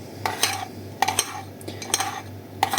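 A spoon stirs milk in a bowl, giving several sharp clinks against the sides at an uneven rhythm, close by and with no talking.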